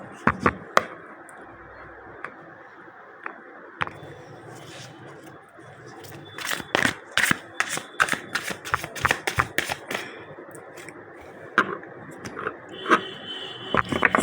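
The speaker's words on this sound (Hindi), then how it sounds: "मैं इकट्ठे कार्ड निकाल लेती हूँ ना" Tarot cards being shuffled and pulled from the deck, quiet at first, then a dense run of riffling flicks and slaps, close up, with brief spoken moments.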